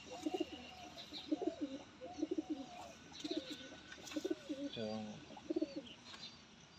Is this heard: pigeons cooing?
yes